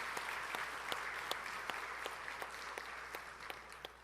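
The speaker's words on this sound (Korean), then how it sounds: "성령님께 영광의 박수를 올려드립시다." A church congregation applauds during a Sunday worship service, soft and distant, with a steady rhythmic clap pulse standing out over a quiet background.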